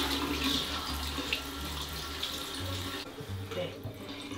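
Tap water runs steadily into a sink for several seconds, a broad continuous splashing rush with no talk over it.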